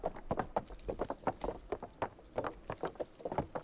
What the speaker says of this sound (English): Once you get a good horse, it's insane how fast you can travel on him.